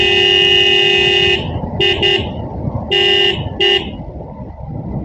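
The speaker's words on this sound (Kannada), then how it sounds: "ಈ ಲೌಡ್ ಹಾರ್ನ್ ನೋಡುವಾಗ ಜನರು ಏನು ಮಾಡ್ತಾರೆ ಅಂದರೆ, ಇದು ದೊಡ್ಡ ಕಾರೇನೋ ಲಾರಿನ ಗಾಡಿ ಬರ್ತಾ ಇದೆ ಅಂತ ನೋಡಿದೆ" An Omni car's loud horn blares on a road near Puttur, with one long blast and then several shorter honks in an uneven rhythm, loud and close, over low road noise.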